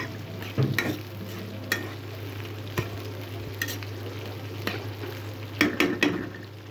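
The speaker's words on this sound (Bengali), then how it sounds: "এখন একটু তেলে ভেজে নিচ্ছি।" Churi shutki, small dried fish, fries in oil with a low background hiss and scattered clicks and scrapes of stirring at irregular intervals, over a steady electrical hum.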